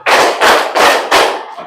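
Four loud, even group hand claps land in steady rhythm, each a sharp burst of many hands struck together, as a crowd follows a counted clapping pattern.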